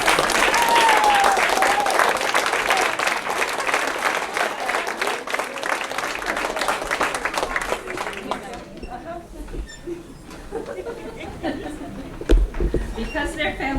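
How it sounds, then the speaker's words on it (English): A graduation ceremony crowd gives a warm round of applause, loud and dense at first, then thinning out into scattered claps, light chatter and a few chuckles. "give them a round of applause."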